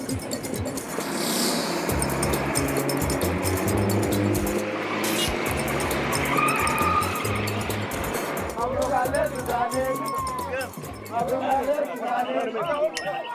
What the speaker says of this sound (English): my taxi driver has to fight his way through Khartoum's chaotic traffic